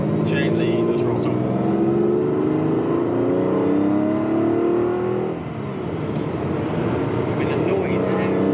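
Ferrari Berlinetta Boxer engine revving under gentle throttle, a loud close rising and falling roar that continues steadily with a brief dip near the middle, with talk over parts of it.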